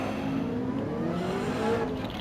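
A Viper race car in a Gran Turismo online Manufacturers Cup race roars past, its engine drone holding steady and loud with a brief pitch rise near the end, amid a continuous wash of engine noise.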